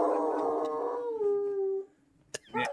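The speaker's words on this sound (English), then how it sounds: "My dog's howling too." Dog howling close by in one long, wavering, drawn-out note that slides downward and fades, followed by a couple of brief sharp sounds.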